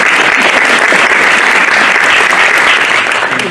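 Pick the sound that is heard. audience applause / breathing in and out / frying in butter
audience applause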